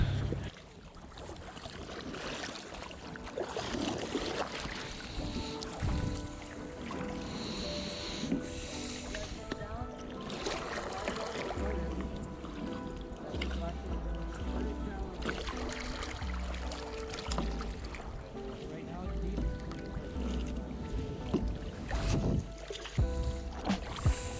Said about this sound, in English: we are about to start our nighttime kayak adventure